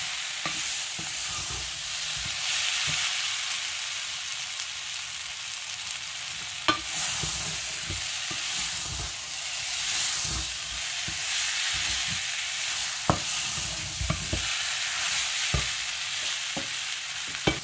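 Plantain peel and onion sizzle in a frying pan while a spoon stirs and scrapes in an irregular rhythm, with a few sharp knocks against the pan; the frying hiss is steady and close, and no one speaks.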